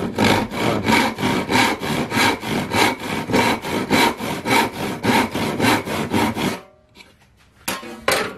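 A hand saw cuts through wood in close, loud, even back-and-forth strokes, about three per second, then stops abruptly, followed by a brief quiet and a few softer scrapes.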